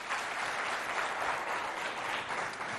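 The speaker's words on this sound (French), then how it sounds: "On fait un triomphe, on applaudit vraiment Matiba et Geneviève." Sustained applause from a crowd at a school event in Moundou, Chad, steady and dense clapping throughout, moderately loud with no pauses.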